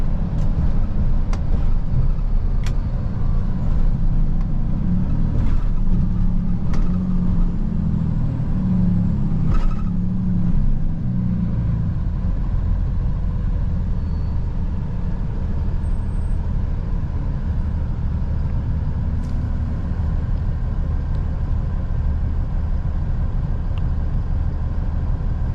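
A tracked rock truck with a bucket on top, working at a muddy site, gives a loud, steady low engine rumble that drones on without a break, with a few faint clanks early on.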